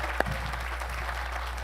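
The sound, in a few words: audience applause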